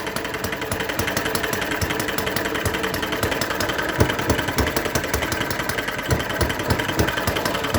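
A Microcosm M93 / Eachine ET8 model engine idles at its lowest RPM, a steady, fast mechanical chugging with a fine rapid rhythm, close and even throughout.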